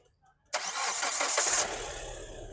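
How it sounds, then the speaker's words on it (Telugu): A Hyundai Creta 1.6 SX(O) car engine cranks once after a quiet start, catches immediately and settles into a steady, close idle. "సింగిల్ సెల్ఫ్ బండి స్టార్ట్ ఉంది సార్"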